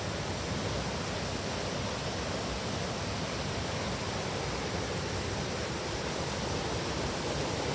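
A wild river runs beside sluice gates, giving a steady, full-bodied rushing wash that stays even and unbroken throughout with no voices.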